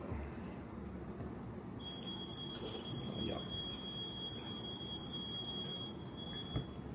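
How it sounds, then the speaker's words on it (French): A high electronic alarm tone sounds steadily for several seconds before being switched off, holding over a noisy indoor background with faint movement. "Je vais éteindre l'alarme en même temps."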